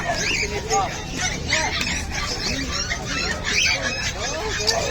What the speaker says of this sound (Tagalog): Mga ibon niya.